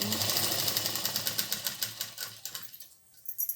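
A sewing machine stitches a petticoat hem with a fast, rhythmic close clatter that slows and stops near the end, then briefly restarts.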